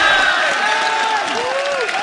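Crowd cheering and applauding in a hall at a Counter-Strike esports final, a dense continuous roar of claps and shouts with an announcer's voice partly under it.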